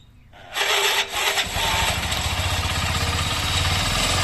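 A motorcycle engine cranks on its repaired self-starter, catches within a second and settles into a loud, close, rapidly pulsing idle.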